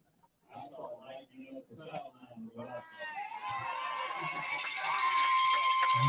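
A crowd at a Kentucky high school football game swells from scattered chatter into loud, sustained cheering and shouting, with an announcer speaking over the early part of the rise.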